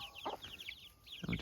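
Young chicks outdoors chirp in quick, high, repeated cheeps, with a couple of short louder flurries of lower clucking or movement close by.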